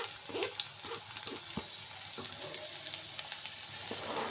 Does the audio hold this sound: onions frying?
yes